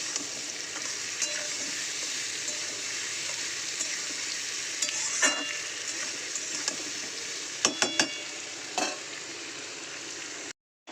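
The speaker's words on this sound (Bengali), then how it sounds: "আলুর সঙ্গে পেঁয়াজটা আমার ভালো করে কিন্তু ভাজা হয়ে গেছে।" Potatoes and onions frying in a pan, a steady close sizzle with scattered sharp clicks and scrapes from stirring, fairly quiet overall and ending in a short silence.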